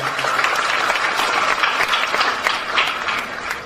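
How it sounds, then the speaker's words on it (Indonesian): Residents of Jogokarian applaud as a crowd, a continuous wash of clapping from many people at moderate loudness, sustained evenly throughout. "Tepuk tangan buat warga Jogokarian"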